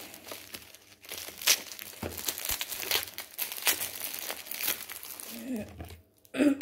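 A parcel being torn open for an unboxing, with close crinkling and ripping of packaging in irregular bursts, quieter toward the end.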